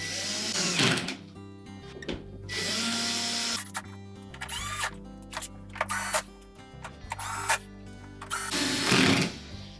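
A power drill drives screws into the plastic panel of a Whirlpool dishwasher in a series of short whirring bursts separated by pauses, each burst rising and falling in pitch, heard close up with no talk.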